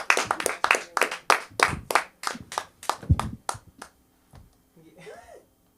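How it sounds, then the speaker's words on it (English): An audience at a Friday-night comedy show claps for comedian Sam: a run of loud, fast, rhythmic claps for about four seconds, then a few softer scattered claps and faint voices as it dies down. "Clap it up for Sam."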